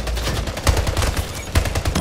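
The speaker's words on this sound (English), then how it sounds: "That was a sniper." Rapid bursts of gunfire in the Splitgate video game, dense clattering shots with a couple of heavier blasts standing out, loud and continuous over the short span.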